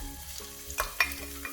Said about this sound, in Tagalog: We're going to put the onions.